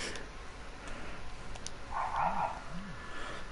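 A dog gives two quick barks or yips partway through, fairly faint and a little distant, over a low background hum.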